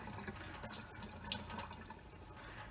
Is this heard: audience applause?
no